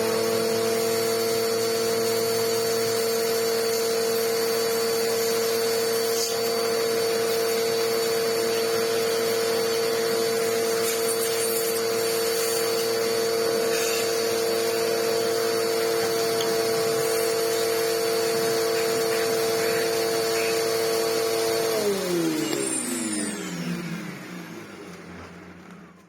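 Electrolux vacuum running steadily and loud, cleaning its own small internal filter, a constant whine with broadband airflow hiss that holds for about twenty seconds before the motor spins down and fades at the end.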